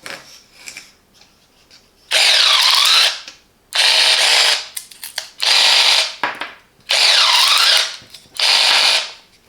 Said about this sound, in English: The Parkside 4V cordless secateurs offer a powerful cutting mechanism that takes the strain out of pruning.